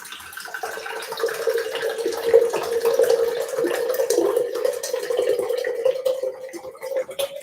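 Water poured into a drinking glass while making a Starbucks-style pink drink, a steady close trickling stream running continuously for several seconds.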